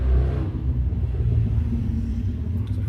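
A loud car with its exhaust removed drives past, a deep throaty rumble that swells and fades over a few seconds, heard from some distance outdoors.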